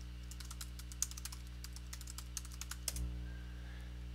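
A run of quick, light keystrokes on a computer keyboard as a password is entered, close and distinct over a steady low hum, ending with a firmer key press.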